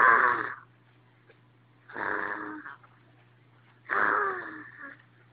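A young girl imitates her father's snoring with a voice, giving three loud, rasping snore-like breaths spaced about two seconds apart, with a low steady hum underneath.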